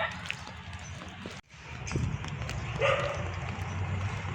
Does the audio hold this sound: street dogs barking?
yes